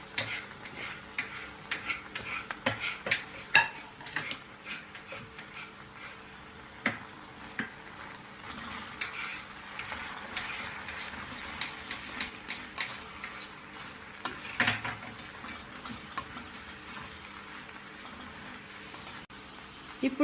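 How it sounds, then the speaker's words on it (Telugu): Mushrooms for chilli mushrooms tipped into a pan and stirred, giving sporadic soft clicks and utensil taps over a faint, quiet sizzle. "మష్రూమ్స్ అయితే వేసేసుకుంటున్నాను"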